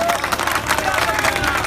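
A crowd at a public political speech outdoors claps and cheers in a dense burst of applause, with a voice mixed in over the clapping.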